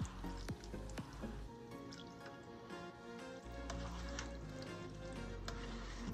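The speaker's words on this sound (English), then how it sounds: "I'm gonna go ahead and add a little bit of this pasta water." Starchy, salted pasta water trickles and drips into a pan of Cajun sausage and shrimp alfredo, with a few sharp drips and a soft sizzle, close and faint, no voices.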